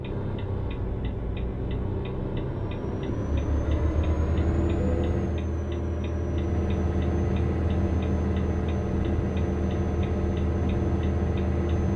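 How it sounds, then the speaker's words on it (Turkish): Truck engine idling inside the cab in Euro Truck Simulator 2 with Promods Middle East, a steady low rumble heard from the interior camera, with a regular ticking running through it and no talk. "Şu motorumuzu çalıştıralım. Bir dinleyelim sesini. Sesi güzel."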